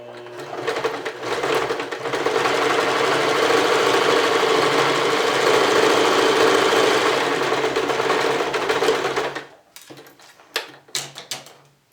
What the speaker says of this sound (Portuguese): abaixa o seu pedal e aí começa a costurar